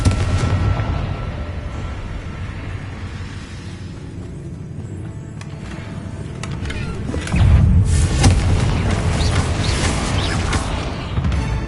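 Confringo spell blasts in the Hogwarts Legacy video game, a sustained rumbling barrage of booms and crackles with a louder burst near the end, no voices.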